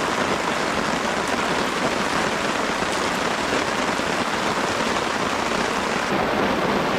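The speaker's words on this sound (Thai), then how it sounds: "สิบห้านาทีแล้วครับฝนยังไม่หยุดเลย" Heavy rain pours down steadily at a streamside campsite, a dense continuous hiss of drops drumming on surfaces with no pauses.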